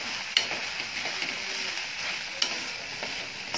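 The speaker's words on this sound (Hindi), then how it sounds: "अब हम मिक्स कर लेते हैं वापस से" Crispy corn chilly is tossed and stirred in a hot pan: a low continuous sizzle with a couple of sharp clacks of a spatula against the metal.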